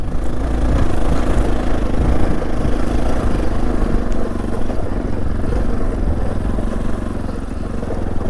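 An old motorcycle engine labours under a heavy load on an uphill climb in Makwanpur, Nepal, a steady loud rumble that stays close and continuous throughout.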